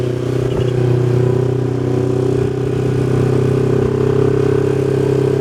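Steady, loud engine drone from a Kawasaki Versys motorcycle set up for touring, riding on a highway, with a continuous hum and wind rush and no talking.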